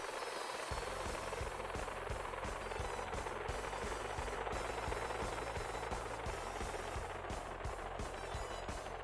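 A helicopter in GTA 5 spools down with a steady, loud rotor thump and turbine whine that fills the whole stretch without a break.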